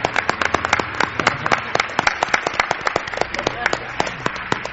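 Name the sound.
studio audience applause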